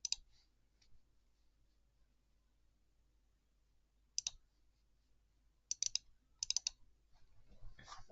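Sparse bursts of clicking keys on a computer keyboard, a quick flurry at the start and then several short clusters later, crisp and close in an otherwise quiet room with no talking.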